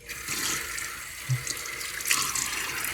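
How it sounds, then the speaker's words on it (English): Tap water running steadily into a sink while a man wets his face before shaving, with light splashing and a few faint background noises throughout. "Let me get my face wet."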